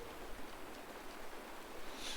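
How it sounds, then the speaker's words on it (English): Steady rain falls in a broad, even hiss with no distinct drops standing out, holding at a constant moderate level for the full stretch with no voices. "It's raining."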